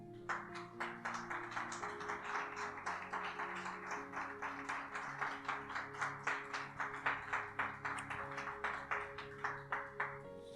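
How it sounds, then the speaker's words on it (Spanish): A church congregation claps for Jesus in a steady, even rhythm, soft and somewhat distant, with sustained musical tones underneath and the claps growing a little sharper toward the end. "¿Alguien le puede dar un aplauso a Jesús?"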